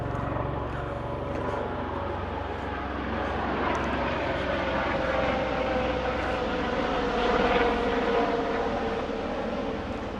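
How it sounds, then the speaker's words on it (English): An airplane drones steadily overhead, a broad continuous roar that swells slightly toward the end. "That's an aeroplane"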